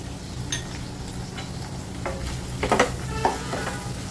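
Rice masala with asafoetida and turmeric, for an onion- and garlic-free Maharashtrian masale bhat, fries in a pan with a steady sizzle, broken by a few clinks and scrapes of a spoon toward the end.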